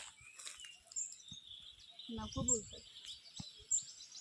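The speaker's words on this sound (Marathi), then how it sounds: "काय मस्त मस्त पक्ष्यांचा फक्त आवाज येते" Repeated high bird chirps ring out through the clip over rustling, with a voice speaking briefly in the middle.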